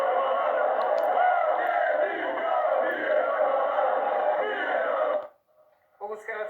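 Croatian football fans in central Rotterdam roar and chant as a dense, loud crowd for about five seconds, then the noise cuts off abruptly and a voice starts talking near the end.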